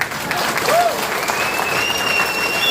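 A crowd at a company launch event breaks into steady applause, dense clapping sustained throughout, with a brief whistle and a voice faintly underneath.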